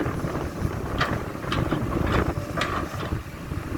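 Strong wind buffets the microphone beside a Komatsu PC200-8 excavator at a canal-dredging job, a steady loud rumble with gusty swells and no talk.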